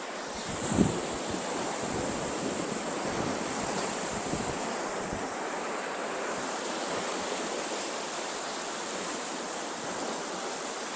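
Waves washing steadily onto a small beach at the Rostrevor hotel in Barbados, a continuous broad surf roar with light wind buffeting the microphone and no talking.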